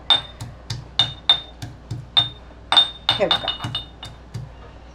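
Green chillies being lightly crushed for a tempering, heard as a run of sharp metallic clinks and taps close by at a steady uneven rhythm, with a brief voice in between.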